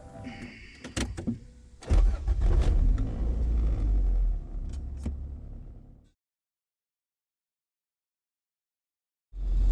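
A restored Honda CRX with a B16 engine driving, engine rumble and road noise with a couple of sharp knocks and clunks for about six seconds before falling silent, then the sound returning abruptly at the end.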